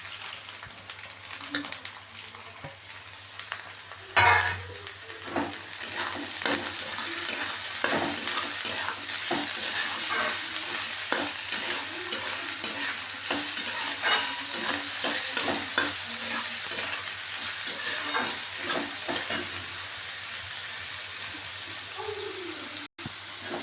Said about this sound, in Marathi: सगळ्या भाज्या चांगल्या छान तेलात परतून घ्यायच्या। आता यामध्ये मी पत्तागोबी घालते।